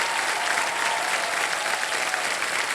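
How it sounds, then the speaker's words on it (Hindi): A studio audience on a televised quiz show breaks into steady, dense applause, a continuous wash of many hands clapping close and full without pause and with no voices over it. "और एक बार जोरदार तालियां बज जाएं इनके परिवार के लिए"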